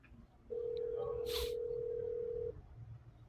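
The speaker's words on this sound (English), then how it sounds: "Well, I hear a phone ringing." A single long electronic telephone tone sounds steadily for about two seconds, with faint room noise and a brief soft click around it.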